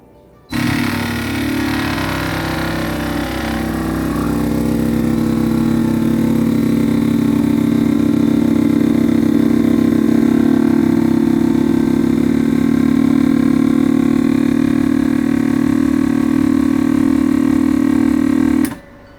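A vacuum sealer runs its automatic vacuum-and-seal cycle on a food bag for emergency or camping meals, a loud steady motor hum that holds for about eighteen seconds before cutting off abruptly.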